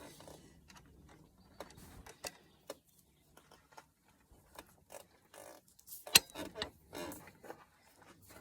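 A wrench loosens the last cylinder head bolt on a Rover 75 engine during a head gasket job, producing quiet, close, irregular ratchet clicks and metallic creaks with one sharper crack near the end.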